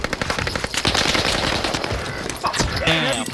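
Rapid machine-gun fire in a Call of Duty Modern Warfare multiplayer match, loud and close, a continuous rattling stream of shots that breaks into scattered bursts near the end.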